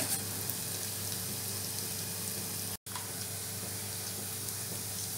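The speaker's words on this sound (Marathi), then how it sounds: "आले लसूण परतल्या गेलाय." Ginger, garlic and finely chopped chilli sauté in a pan for Indo-Chinese manchow soup, giving a continuous, even sizzle throughout with only a momentary dropout near the middle.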